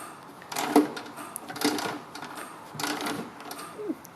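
Mechanism of a tracked RC model vehicle with rollers and a clutch, whirring and clattering in short uneven mechanical bursts at close range, with no talking over it.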